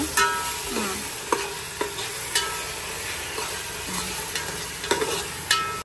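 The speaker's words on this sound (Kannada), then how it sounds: "ಇದು ಸ್ವಲ್ಪ ಚೆನ್ನಾಗಿ ಫ್ರೈ ಆಗಬೇಕು." Ginger garlic paste frying in a pan with salt, a steady close sizzle with scattered stirring scrapes and taps, no talking.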